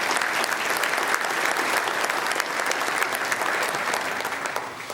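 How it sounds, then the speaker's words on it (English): Steady, dense applause from a board installation audience, even and unbroken throughout, loud and close with no voices over it. "So a round of applause for yourselves"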